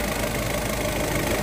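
A 2016 Volkswagen Polo with a TDI diesel engine idles steadily nearby, a low, even rumble with a faint knocking texture and no voices.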